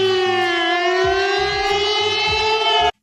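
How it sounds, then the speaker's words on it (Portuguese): A civil defense style siren meant to signal an internet outage wails loud and steady, one sustained rising tone that holds for about three seconds, then cuts off abruptly. "Tem uma sirene pra quando a internet acabar"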